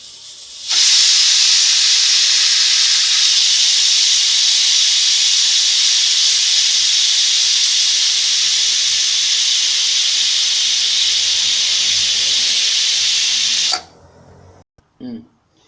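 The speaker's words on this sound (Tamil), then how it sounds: "இப்போ வந்து விசில் வரட்டும் விசில் வந்தப்போ உங்களுக்கு காமிக்கிறேன்" A loud, steady high-pitched steam hiss from a pressure cooker whistle runs unbroken for about thirteen seconds, then cuts off abruptly, followed by faint clatter.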